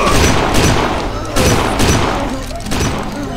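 Shotgun blasts boom in the shooter Kane & Lynch 2: Dog Days, several heavy shots spaced about a second apart over dense, loud battle noise.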